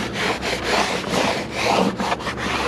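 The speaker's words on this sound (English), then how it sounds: "Go ahead and wipe the rest of it off." Cleaner-sprayed rag rubbed along rubber weather stripping on a car door, a close, loud rhythmic scrubbing with repeated back-and-forth swipes and no talk.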